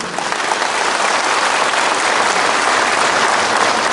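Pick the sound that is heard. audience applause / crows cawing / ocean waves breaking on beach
audience applause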